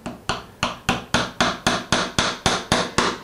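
A dowel is tapped into place on a Martin 00 style acoustic guitar build with about eleven evenly spaced sharp hammer knocks, close and crisp, each decaying quickly, with no talk.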